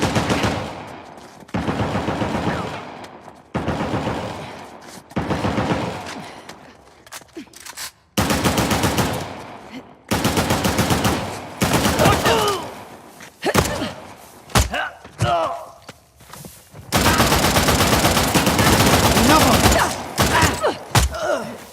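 Gunfire from the video game Uncharted: The Lost Legacy, set in the Western Ghats: long loud bursts of automatic fire and single shots, close and dense, with brief gaps between volleys.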